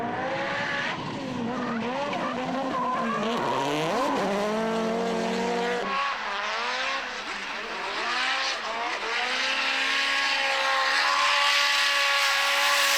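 Race car tyres squeal and skid through corners at a motorsport event, making loud, wavering screeches that rise and fall over the engine roar and continue throughout.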